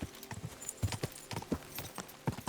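Horse hooves clip-clopping at a steady riding gait in Kingdom Come Deliverance 2, the hoofbeats close and fairly loud with no one speaking.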